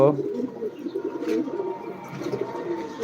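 Caged flying pigeons coo repeatedly in low, throaty murmurs. The calls overlap with soft chirps and come from close by.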